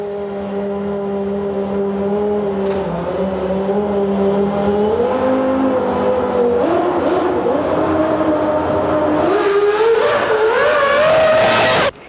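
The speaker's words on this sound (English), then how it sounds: "Mika Hakkinen used the Barcelona tests to repeatedly practice his race starts." A Formula One car at the Barcelona tests, with Mika Hakkinen at the wheel practising race starts, gives a loud close engine drone that rises in pitch through several revving surges and ends in a sharp high scream.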